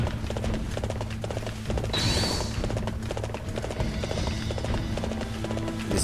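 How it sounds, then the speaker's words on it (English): Galloping horse hooves in the video game Dynasty Warriors 7, a steady clip-clop rhythm running throughout over battle music and game effects, with no speech. "very slow horse."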